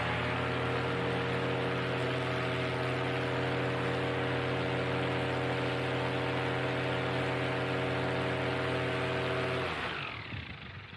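Electric motor spinning a DT propeller up to 7,660 RPM, a loud, steady, tonal whine and hum held close for about ten seconds before it cuts off and winds down.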